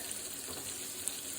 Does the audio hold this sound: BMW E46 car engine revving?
no